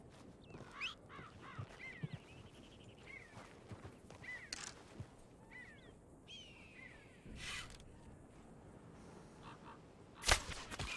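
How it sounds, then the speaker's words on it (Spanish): Sharp, thin calls of a buzzard in the Red Dead Redemption 2 roleplay game, several short cries and a few longer descending screeches over a quiet outdoor background, with faint clicks and a brief loud snap near the end. "Pues ni siquiera, es un ratonero."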